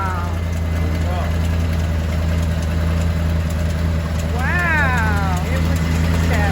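A Ford F-Series dump truck engine idles steadily and close by after a fuel pump replacement, a continuous low rumble with people talking over it.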